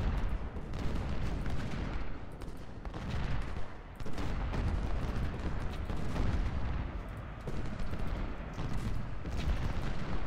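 Civil War artillery canister fire booms in Ultimate General: Civil War at Hall's Ferry Road, Vicksburg, a dense rolling stream of musket and cannon blasts that stays at a steady, moderate loudness.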